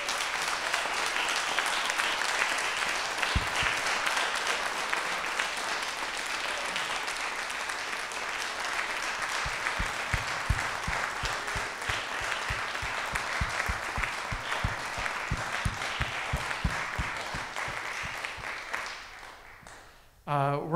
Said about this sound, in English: I really want to give a round of applause to the students for all the work that they've done.